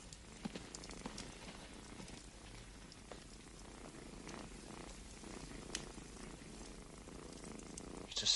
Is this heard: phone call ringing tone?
no